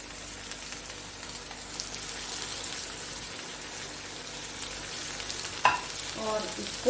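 Onions and tomatoes cooking in a pan, a soft, steady sizzle that carries on evenly, then a sharp clatter near the end followed by louder frying.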